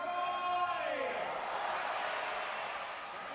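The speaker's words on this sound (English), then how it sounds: "That's the crowd rolling again" Home crowd at an indoor soccer arena during a San Diego Sockers game, swelling into a sustained rolling cheer that fills the space, starting over a brief horn-like tone and fading slightly toward the end.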